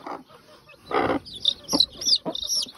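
A chicken clucks and squawks in short bursts, close and fairly loud, with a few rustling noises between calls.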